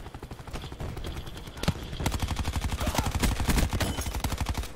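Rapid automatic gunfire from a weapon in Call of Duty: Black Ops 4 rattles in steady bursts, loud and close, growing denser in the second half with no voices over it.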